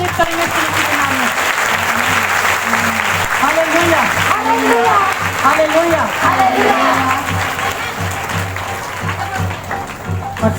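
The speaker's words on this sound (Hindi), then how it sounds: "सब लोग ताली बजाकर तारीफ करेंगे यीशु मसीह के नाम में।" A church congregation at a Sunday worship and prayer meeting claps in praise, loud and sustained for several seconds, with voices calling out over the applause before it eases off.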